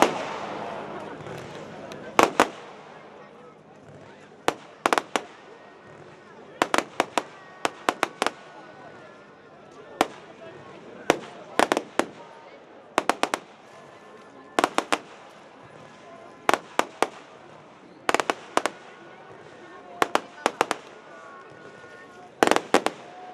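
A 100-shot firework battery fires during a product demo, sharp cracking bursts arriving in quick clusters and volleys across the whole stretch, loud against a quieter outdoor background with faint talk between shots.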